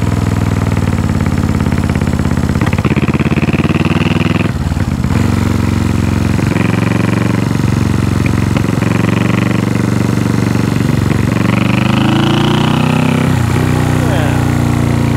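A 1974 Honda CB360 motorcycle, rebuilt from a fully disassembled state, runs on its first start with a steady, loud idle and a few blips of the throttle, while people talk over it.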